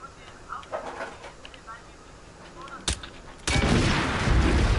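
An explosion set off by shooting at a valve, landing as a sudden loud broadband blast that carries on as a sustained roar, with a sharp crack just before it and voices earlier.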